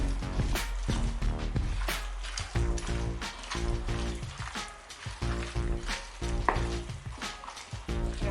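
Chicken curry masala paste and tomatoes stirred together in a pan for an oil-free chicken curry: a steady sizzle runs throughout, broken by repeated scraping stirs, with a low tonal hum beneath.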